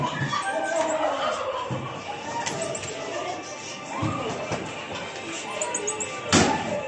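A peacock calls with a few loud, sweeping cries inside an indoor zoo in Yakutsk, amid a busy hall of background chatter and scattered knocks.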